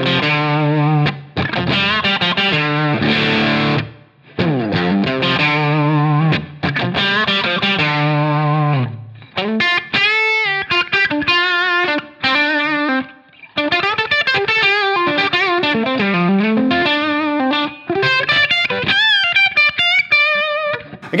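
Electric guitar played through a Line 6 Helix Brit amp model, dialed toward a blues-rock tone: loud, distorted chords and sustained single-note lead lines with short pauses between phrases, no talking.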